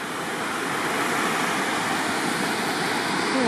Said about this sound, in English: There's a nice little waterfall up there while I'm filming the pothole.